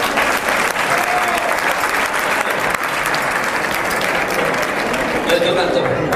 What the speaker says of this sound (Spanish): Don Manuel Luque, un aplauso para Luque.